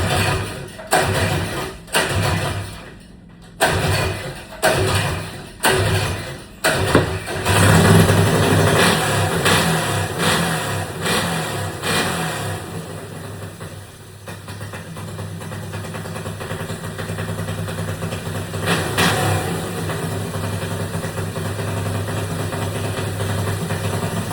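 A car engine cranked after running out of gas, with several short starter bursts before it catches, then idles steadily and revs up and down, loud and close.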